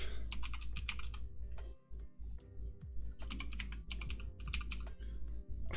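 Keys clatter on a computer keyboard in quick clustered bursts with short pauses between, close and crisp over a low steady hum.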